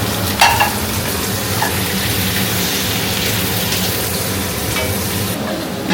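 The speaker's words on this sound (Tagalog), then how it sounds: "Mira just now cooking the chili chicken." Chili chicken frying in a hot pan, a loud continuous sizzle with occasional stirring scrapes, close and steady throughout.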